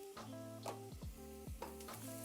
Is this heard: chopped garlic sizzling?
yes